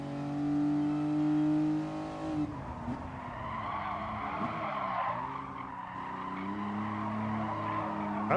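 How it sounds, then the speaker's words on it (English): Race cars in the Gran Turismo Sport video game, with tires screeching and skidding through turns over a steady roaring engine that rises and falls, loud and continuous throughout. "You just get to hear the tires screeching and the roar of the engine."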